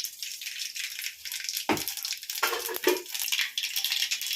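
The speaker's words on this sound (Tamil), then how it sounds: "இது கடுகு பருப்பு போடுறேன்" Mustard seeds and lentils crackle and spatter in hot oil in a pan while a home cook makes vegetable sambar, a sharp bright fizz with a few louder pops and scrapes against the pan.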